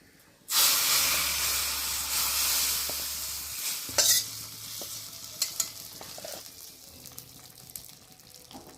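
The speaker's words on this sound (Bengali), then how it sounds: "এখন আমি খিচুড়ির মধ্যে ফোড়নটা ঢেলে দেবো" A sudden loud hiss and sizzle erupts as something hot hits liquid, then fades into bubbling with a few clinks of a utensil.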